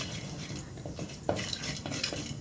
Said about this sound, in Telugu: ఆయిల్ వేడయింది. ఇందులో పోపులు వేసుకుందాము.